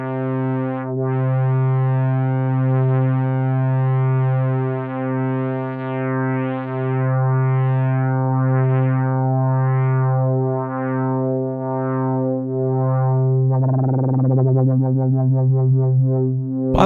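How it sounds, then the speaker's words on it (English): Roland JD-08 synthesizer holding a sustained tone while an LFO gently sweeps the filter cutoff, giving a slow wavering brightness, then a busier rippling burst near the end; no speech. "I'll add an LFO to this filter so it slightly modulates the filter cutoff frequency"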